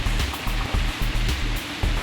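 Jets of water spray into a reflecting pool at a roadside attraction in Ohio, making a steady rushing splash with rhythmic pulses, moderately close and without voices.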